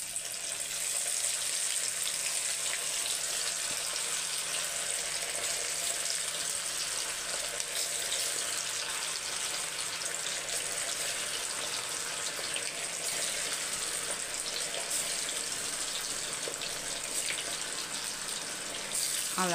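A batch of chicken 65 frying in hot oil, giving a dense, steady hiss and crackle that holds evenly throughout, close up and with no one talking.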